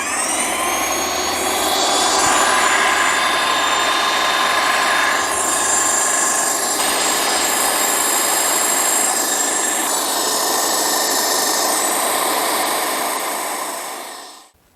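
An Inokraft Maxpray M1 airless paint sprayer pump runs loud and close at high pressure, a steady continuous whine and hiss that holds for the whole stretch before cutting off at the end.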